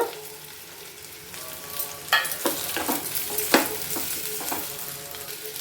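Potatoes drop into a frying pan and are stirred: a steady fry with several distinct scraping, clattering bursts over a hissing background.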